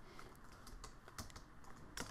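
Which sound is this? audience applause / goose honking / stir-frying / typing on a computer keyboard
typing on a computer keyboard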